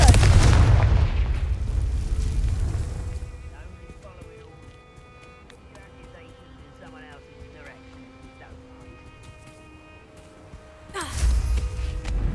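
Confringo spell explosions in Hogwarts Legacy: a loud blast with deep rumble opens, fades into quieter game ambience with a voice talking, then a second powerful explosion bursts near the end.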